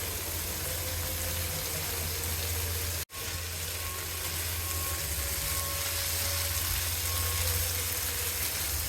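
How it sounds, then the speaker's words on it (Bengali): Steady sizzling hiss from a pan of koi fish curry with bean seeds, continuous and fairly close, with a brief sharp dropout partway through and no talking. "দিয়ে দেবো এখন জল"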